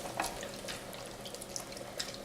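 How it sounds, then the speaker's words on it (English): Pork stir fry sauce boils in a pan with a faint, steady bubbling and soft popping and sizzling, continuous and low in level with no talking. "So this is now boiling away nicely"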